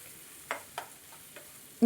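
Finely chopped medium onions sauté in a pan over a low flame for an eggplant masala curry, with a few soft stirring scrapes and a faint sizzle, ending in a louder clatter.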